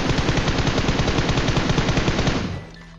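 Rapid automatic gunfire in the shooter PUBG Mobile, a dense, loud, continuous burst of shots that lasts about two and a half seconds and then cuts off abruptly.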